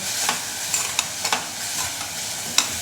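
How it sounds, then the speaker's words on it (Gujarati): Salt, asafoetida and turmeric being stirred into a cooking onion mixture in a pan, a soft steady sizzle with several short spoon clinks and scrapes spaced irregularly, close and without voices. "સ્વાદ પ્રમાણે નમક ઉમેરીશું ચપટી હિંગ લઈશું થોડી હળદર પણ લઈશું બધું જ બરાબર મિક્સ કરી લઈએ"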